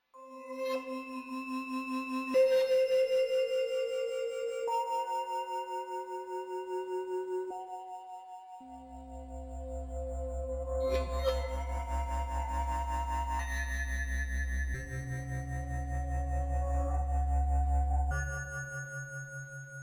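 Sustained Roland JV-1080 synthesizer notes, with Eurorack modules and light tape saturation, shift from pitch to pitch, smeared by long reverb tails, with a deep bass drone swelling in the middle.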